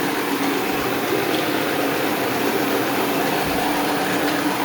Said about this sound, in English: I don't mind vacuuming up the stuff real quick before I actually clean the area